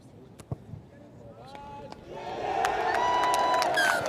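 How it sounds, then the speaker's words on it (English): Rugby crowd on the far side of the pitch roaring after a successful penalty kick: a few thuds and scattered voices, then a swelling cheer that holds loud to the end, with commentary talk over it. "there was an enormous roar that went up on the far side"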